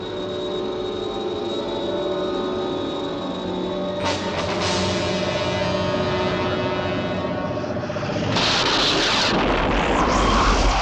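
A television sound effect of a UFO target being destroyed: a rumbling blast with a swelling roar, a sharp crack partway through and a louder, brighter burst near the end, with no talk.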